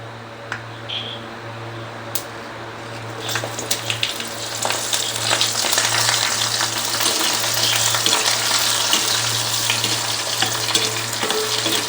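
Dried red chillies and onion fry in hot oil with mustard seeds, a steady close sizzle that grows busier after a few seconds, with scattered crackles and pops over a low constant hum.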